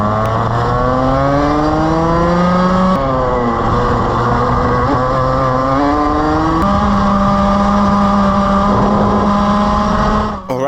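Engine of a new LN racing kart on a dry track, loud and close, holding a steady high drone that drops and climbs again at each gear shift and corner throughout, without any voices.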